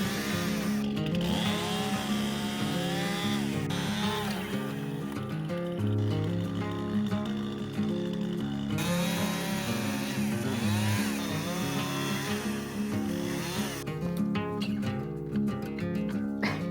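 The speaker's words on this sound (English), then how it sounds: "So I'm going to go through with the chainsaw, cut us a little access doorway." Chainsaw cutting into a brush pile in the mountains, the engine whining loud and close with rising and falling revs as it bites through branches, running continuously.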